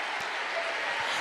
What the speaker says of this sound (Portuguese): Misture essas palmas com glória a Deus e aleluia!